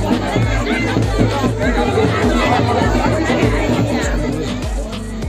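Loud, dense chatter from a large crowd gathered at a Ram Rajtilak celebration, many voices overlapping close by in a continuous hubbub.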